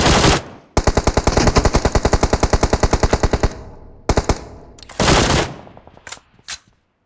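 Automatic gunfire in the PUBG Mobile game: a long, rapid, evenly spaced burst, then a short burst, a sustained blast and a few trailing single shots, loud and close.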